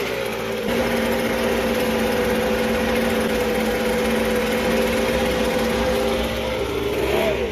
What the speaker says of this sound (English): get out your leaf blower.